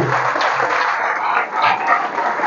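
A church congregation claps hard together after a prayer in a Portuguese-language service, producing a dense, steady wash of applause that swells slightly and carries on for the whole stretch.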